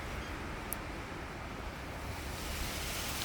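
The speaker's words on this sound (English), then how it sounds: "Windy, windy, windy." Steady broadband wind roaring through a home fruit garden in Melbourne on a cold early-winter day, a constant close rush buffeting the microphone with no pauses.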